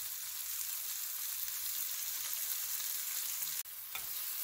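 Dried red chillies and turmeric powder sauté in a pan for a Kongu-style horse gram rasam, giving a steady, fairly loud sizzle with faint stirring scrapes throughout and no talking.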